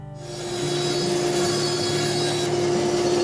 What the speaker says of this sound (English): I use a tapered template that I place between my bamboo blank and the fence of the bandsaw to cut a taper into my blank